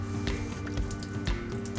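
Water splashed by hand onto yakisoba noodles crisping in a hot pan, giving a close, sizzling spatter with brief bursts of crackle over a steady frying hiss.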